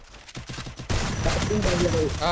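Rapid automatic gunfire from the Free Fire video game, with a stuttering burst of shots that turns into a dense, sustained roar of fire and a few sliding tones, loud and close throughout.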